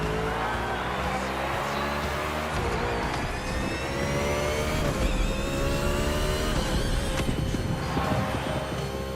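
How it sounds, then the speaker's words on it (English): A NASCAR race car engine in The Crew Motorfest roars loudly and continuously, revving up and shifting through gears with a steady high-pitched whine, passing through a tunnel, no voices. "I just love the way the engine sounded in the tunnel."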